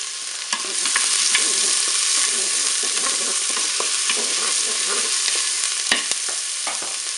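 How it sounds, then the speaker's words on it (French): Onions browning in hot oil inside a Cookeo multicooker give off a loud, steady sizzle with occasional light stirring clicks, and no one speaks. "je vais faire dorer mes oignons"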